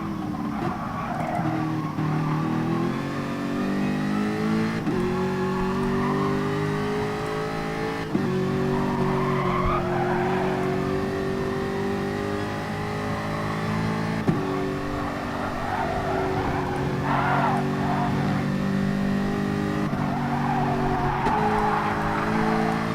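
GT3 race cars in GT Sport at Bathurst howl continuously in a dense multi-car pack, several engines overlapping with shifting pitch and occasional tire squeal, loud and sustained throughout with no voices.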